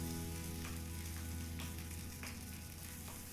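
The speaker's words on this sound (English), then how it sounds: "I do love the sound of a cooking breakfast" Breakfast frying in a pan within an abstract album track, a faint, constant crackling sizzle with occasional soft clinks, set over a low sustained hum.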